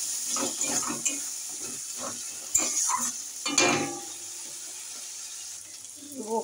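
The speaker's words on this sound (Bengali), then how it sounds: "মশলাটা ভালো করে কষিয়ে নিতে হবে।" Onion, garlic and ginger paste frying with potatoes in a pan for a Bengali fish curry, a soft sizzle with intermittent scraping stir strokes, close and moderately loud, with no talk.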